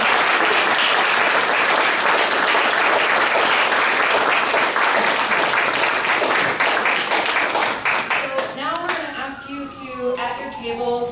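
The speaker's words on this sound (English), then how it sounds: "let's give our panel a big round of applause" Loud, sustained applause from a seated audience at a local food-system community event, many hands clapping for the panel for about eight seconds before thinning out as a voice begins speaking.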